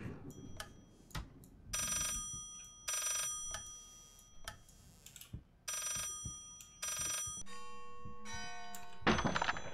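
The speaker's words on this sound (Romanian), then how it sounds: "Acum sună normal telefonul." A telephone in the Layers of Fear video game rings in repeated bursts with pauses between, mixed with thuds and clunks, growing harsher and louder at the end.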